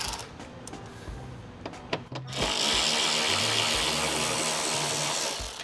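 Power tool spinning out a screw on an Acura TLX bumper, a few light taps followed by a steady, loud whirring buzz that holds to the end.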